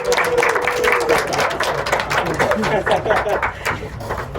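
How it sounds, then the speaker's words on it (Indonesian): Audience applause after a poetry reading at a university event: a burst of many hands clapping, close and lively, with brief voices mixed in over the dense clatter. "Oke, tepuk tangan dulu untuk komplit."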